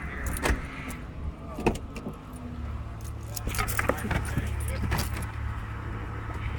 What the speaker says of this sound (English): Oh, that's the brakes.